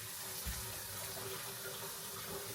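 Water pouring steadily to water potted plants indoors, a continuous soft splashing stream, close and gentle, with no voices.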